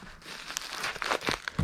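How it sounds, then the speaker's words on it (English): Packing tape and crinkly material are handled close up while a package is sealed for shipping, giving a short burst of rustling, crinkling and ripping sounds. "I'll get all this taped up."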